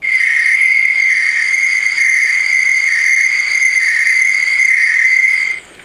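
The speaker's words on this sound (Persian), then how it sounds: "یکی صدای شبه که صدای جیرجیرک میده" Night ambience from an Apple relaxation-sounds app: a dense, steady chorus of chirping crickets, loud and continuous, with no voices, before it cuts off abruptly near the end.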